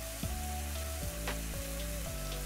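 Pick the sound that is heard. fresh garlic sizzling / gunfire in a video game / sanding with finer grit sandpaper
fresh garlic sizzling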